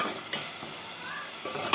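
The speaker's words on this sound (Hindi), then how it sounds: "अब हम मसालों को जो है अच्छा सा भूनेंगे" Spices fry for a chickpea gravy in a pot, giving a steady close sizzle with a few scraping stirs, with no one talking.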